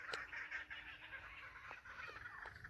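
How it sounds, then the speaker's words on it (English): Kookaburras cackle in an outdoor setting with a steady, bright chattering chorus running throughout and a few sharper calls standing out, fairly loud and continuous with no talking. "the kookaburra gets added in like a lot of movies as like a sound effect for exotic rainforest bird"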